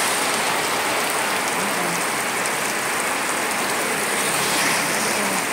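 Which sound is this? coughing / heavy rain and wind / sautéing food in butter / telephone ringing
heavy rain and wind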